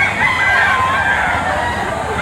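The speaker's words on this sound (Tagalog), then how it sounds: "Ganda manok nito." A year-old gamecock crows and clucks at an open-air gamecock market behind SM Lipa in Batangas, Philippines. The crow is loud, close and drawn out, and it continues through the whole stretch over steady market background noise.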